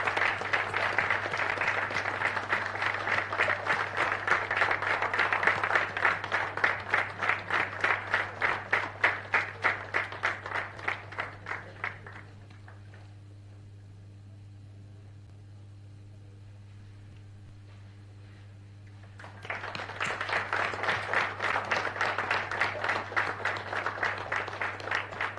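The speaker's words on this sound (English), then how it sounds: "Let the applause be a little louder," Audience applauding at a bank's mobile app launch ceremony: a sustained, evenly pulsing round of clapping fades out, leaving a low hum for several seconds, then a second burst of clapping starts up.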